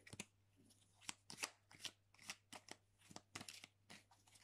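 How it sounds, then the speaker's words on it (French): Tarot cards are shuffled close up in a quiet room, giving a string of crisp riffling, flicking bursts at an uneven rhythm with short gaps between them. "Avec le Cancer, je mélange de nouveau"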